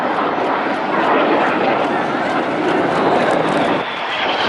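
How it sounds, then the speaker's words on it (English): Display team jets roar overhead at a seaside airshow, a loud sustained broadband engine rush that swells slightly and holds, with a commentator talking over it. "Each aircraft now turns hard up to 6 feet away from each other"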